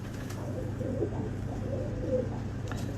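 A pigeon coos softly in low, rolling repeated calls over a steady background hum, close by but not loud.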